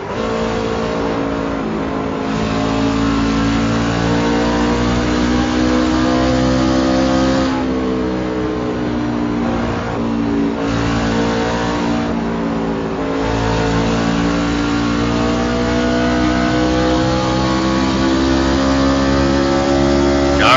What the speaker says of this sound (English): Listen to the engines.